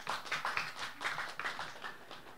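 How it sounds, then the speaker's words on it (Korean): An audience at a natural-fiber future forum during the Hansan ramie culture festival breaks into applause, with a steady run of clapping that rises and falls in bursts at a moderate level and has no talk over it. "다시 한번 양재영 아이돌께 큰 박수 한번 부탁드리겠습니다"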